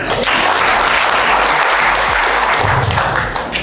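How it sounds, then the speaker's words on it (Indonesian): A seminar audience of education office staff breaks into loud, dense applause filling the room, a steady roar of many hands clapping at once that holds strong and begins to ease only at the end. "Boleh tepuk tangan"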